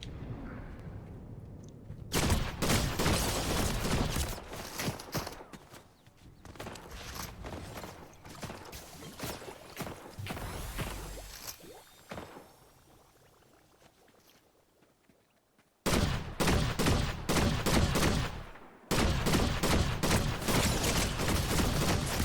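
Rapid bursts of gunfire from the Fortnite video game, dense and loud, coming in long volleys that are broken by a quieter stretch and then resume sharply with no talk over them.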